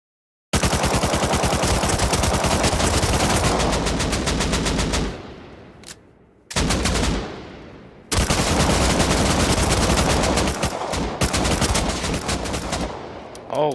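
Loud, rapid automatic gunfire from the console version of the game Rust rattles out in long sustained bursts aimed at players, broken by two brief pauses.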